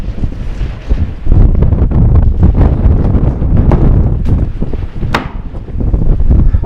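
Strong wind buffets the microphone up high, a continuous loud rushing roar with gusts that swell and ease, and no voices.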